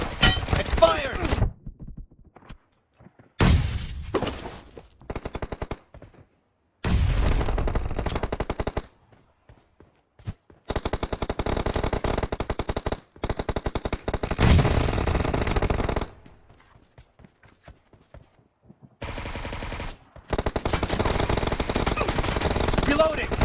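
Suppressed QBZ rifle fire in PUBG Mobile, loud close bursts of rapid automatic shots broken by short silences, repeating through the stretch with no voices.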